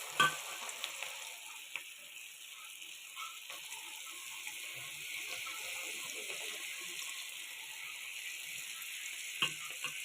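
Pieces of battered gobi (cauliflower) for gobi manchurian sizzle in hot oil on a stove, with a continuous crackling hiss. A few louder pops and clatters sound near the start and end, and no one speaks.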